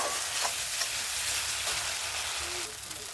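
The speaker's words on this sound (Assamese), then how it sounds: "মই মছলাখিনি মিনিমাম 1 পৰা 2 মিনিট টাইম ফ্ৰাই কৰি ল'ম।" Spice mix (masala) frying in hot oil for a potato curry, a steady close sizzle and crackle with faint stirring, continuous and alone throughout.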